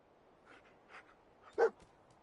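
Dogmeat, the dog companion in the video game Fallout 4, gives a few faint soft woofs and then one sharper, louder bark near the end against a quiet background.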